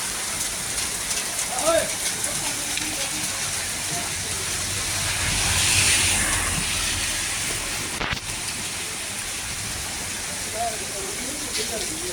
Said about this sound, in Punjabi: ਬਹੁਤ ਸਪੀਡ ਨਾਲ ਮੀਂਹ ਪਿਆ